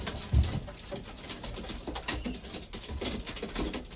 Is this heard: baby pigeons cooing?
yes